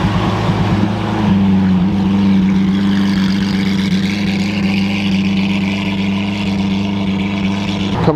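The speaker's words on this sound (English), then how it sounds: "I hear a V12 roaring out here" A Lamborghini Aventador 720 with a V12 engine roars loudly and close on a street, a steady powerful drone with a deep rumbling tone that holds for several seconds without any talking.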